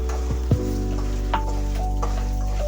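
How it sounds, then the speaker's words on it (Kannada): Tamarind, Kashmiri red chillies and curry leaves fry for a ridge gourd chutney with a steady, close sizzle and a few sharp crackles and taps over a constant low hum. "ನಂತರ ಹುಣಸೆಹಣ್ಣು ಮತ್ತು ಕಾಶ್ಮೀರಿ ಕೆಂಪು ಮೆಣಸಿನಕಾಯಿ ಮತ್ತು ಕರಿಬೇವು ಹಾಕಿ 3 ರಿಂದ 4 ನಿಮಿಷ ಚೆನ್ನಾಗಿ ಫ್ರೈ ಮಾಡಿ."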